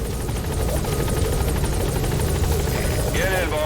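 The Pequod helicopter in Metal Gear Solid V whirs steadily with a close, continuous rotor chop throughout, with voices talking over it.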